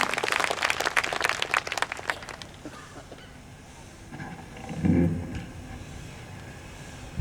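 Applause welcoming a poet to the stage at a school poetry event marking Guru Gobind Singh's birthday: a burst of crowd clapping for about two seconds that fades, then low room noise with a brief muffled rumble.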